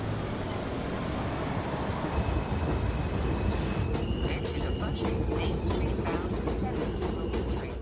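A New York subway train rumbles steadily close by at Court Square Station, with metallic screeches and clatter from the wheels over the low roar.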